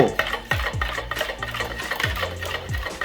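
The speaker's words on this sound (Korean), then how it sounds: "피처에다가 이제 바스푼으로 저을 거예요" A bar spoon stirs vanilla latte in a pitcher, clinking and scraping against the sides in a steady, repeated rhythm, up close with no talk.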